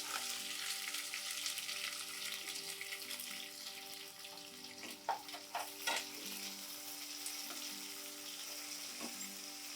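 Long-sliced onions frying in oil for vada curry, a steady moderate sizzle with a few sharper clinks and scrapes of stirring in the middle, no voices.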